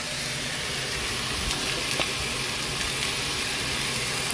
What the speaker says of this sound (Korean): 그래서 볶아주시고요